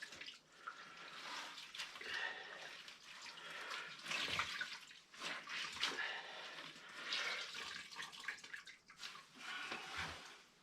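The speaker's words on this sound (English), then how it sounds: "Once you got stuff wringed out, then dump this water." Wet laundry wrung out by hand in a tub during off-grid homestead washing, with water splashing, trickling and dripping back down in continuous uneven bursts, close and fairly quiet, no talking.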